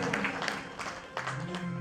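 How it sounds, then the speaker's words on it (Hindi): A devotional religious discourse audience gives soft, steady applause for the dholak player, a faint broadband patter of many hands with a few sharper claps. "हमारे ढोलक पांडे जी के लिए जोरदार तालियां"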